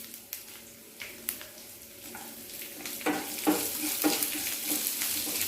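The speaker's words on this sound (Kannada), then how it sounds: "ಬೆಳ್ಳುಳ್ಳಿ ಒಂದು ಸ್ವಲ್ಪ ಫ್ರೈ ಆಗಲಿ" Chopped garlic and dry chillies fry in a pan, a steady sizzle that grows louder, with scattered scrapes and taps of stirring.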